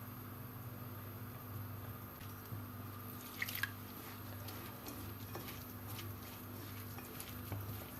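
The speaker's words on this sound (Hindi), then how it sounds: "और अब हम थोड़ा थोड़ा पानी शामिल करेंगे, ज़्यादा पानी हमें शामिल नहीं करना।" Water is added little by little to besan (gram flour) for a kadhi pakora batter, giving faint soft drips and quiet squishy stirring over a low steady hum, with no talking.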